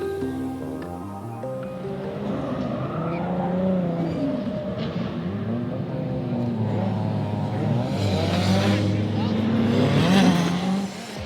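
A BMW E36 drift car drives nearby with its engine revving and rising in pitch, tire noise building toward the end, while people talk over it.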